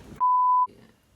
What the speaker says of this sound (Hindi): बीप